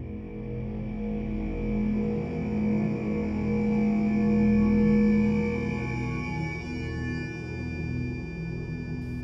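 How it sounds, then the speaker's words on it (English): A stretch of stock music played in reverse: swelling sustained tones with smeared, backward-building attacks, moderately loud and continuous, with no speech. "And then I took a section of that and played it backwards, which sounds like this."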